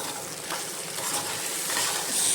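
Coriander seeds fry in a hot pan, a steady close hiss and fine crackling sizzle that holds evenly throughout without pause.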